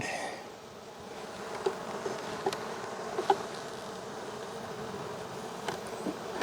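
Honey bees hum in a steady, close swarm around their hive, with occasional individual buzzes flaring louder as they pass near.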